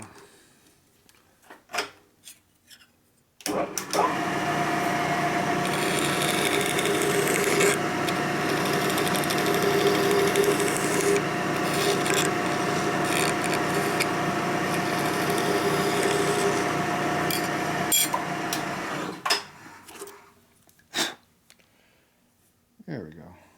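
A rotary tool deburrs rust off a nut on a 1961 Harley FL 74ci panhead motor, a steady close grinding rasp lasting about fifteen seconds, framed by short clicks and handling noises.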